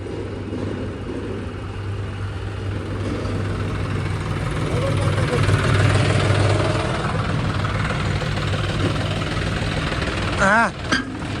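Tractor engine running under load, stuck while climbing at a sugar factory, a steady deep idling rumble that swells in the middle, with a short rising whine near the end.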